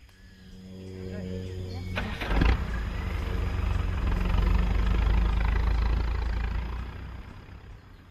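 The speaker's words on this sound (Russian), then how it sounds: "Шум двигателя выводит слона из задумчивости, но от испуга он запутывается." A vehicle engine in the Botswana bush, a low droning hum that swells and holds for several seconds with a brief knock early on, then fades away.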